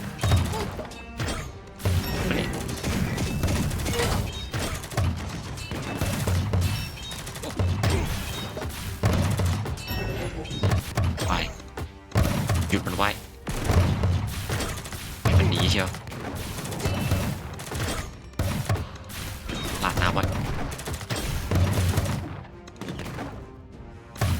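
Combat in the video game Kingdom Rush 5 Alliance, with rapid gunfire bursts, metallic clanks and crashes layered over dense game sound, with a voice speaking at times.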